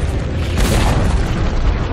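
Dota 2 tower destruction explosion, a loud deep boom with a sharp burst that rolls into a rumbling tail, alone without talk.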